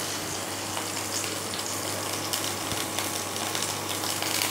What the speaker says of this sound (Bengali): এখানে রসুনটা দিয়ে দেবো তেলের মধ্যে। একটু রসুনটা ভেজে নেবো।